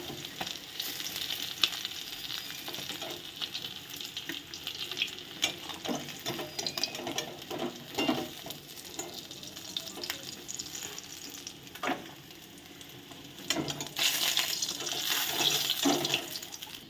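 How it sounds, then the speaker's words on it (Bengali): Fish pieces fry in hot oil in a home kitchen, giving a steady crackling sizzle broken by bursts of louder spattering as they are turned, with no talking. "এরকম উল্টে পাল্টে ভালো করে মাছগুলোকে আমি ভেজে নেব"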